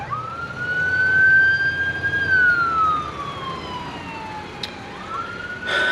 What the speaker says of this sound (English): there's an ambulance not too far away, or a police car, one of the two